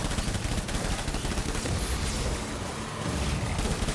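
Sustained gunfire in Death Stranding rattles without pause, a dense, loud barrage of shots mixed with distant booms.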